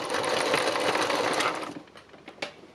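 A sewing machine runs free machine embroidery with white thread, a close, steady rapid stitching that runs for over a second, then stops, leaving a couple of light clicks.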